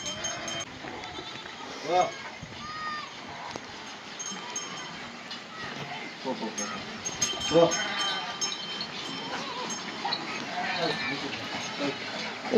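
Several sheep and goats bleating repeatedly at moderate distance, overlapping calls amid general farmyard noise during rain, with a voice talking faintly.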